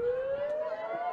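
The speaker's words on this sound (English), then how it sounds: "There's the siren." Siren at a women's ultimate frisbee semifinal, a steady rising tone that climbs slowly and holds loud and clear for the whole moment over a faint crowd background, with no talk.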